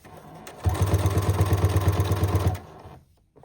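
A sewing machine stitching scrap fabric in a short burst of about two seconds, a rapid even mechanical chatter of the needle, close and clear, starting and stopping abruptly.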